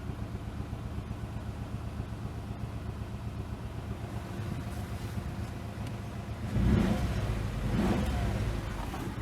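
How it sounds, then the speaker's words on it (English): Damaged Citroen DS3 engine with a faulty engine mount giving a low rumbling drone, steady and moderately quiet, then swelling into two louder rumbling surges near the end, with no talking. "Like a rumbling noise."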